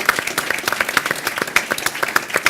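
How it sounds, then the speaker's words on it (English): An audience at a commencement gala claps in a lively round of applause, many hands beating in quick irregular bursts, close and steady throughout. "And a big round of applause for your stellar achievements."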